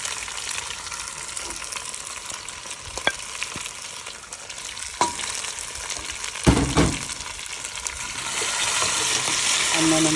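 Potatoes for Punjabi-style aloo gobi fry in a pan with a constant, loud sizzling hiss, broken by a few clinks and a stirring scrape, and the frying swells toward the end.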